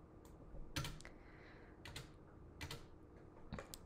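Keys clatter on a computer keyboard in quick irregular bursts with short pauses, close and fairly quiet, no voices.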